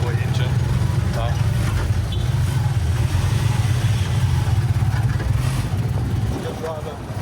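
Kawasaki motorbike engine running steadily in Manila traffic, a continuous loud low rumble with faint surrounding street noise, easing slightly near the end.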